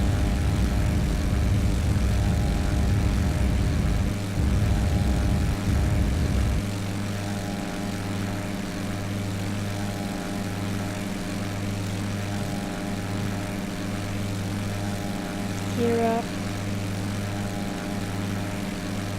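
Aircraft climbing out on takeoff in the X-Plane flight simulator: a loud, steady droning engine with a strong low propeller hum, heavy rumble early on that drops to a smoother, constant tone as the plane lifts off.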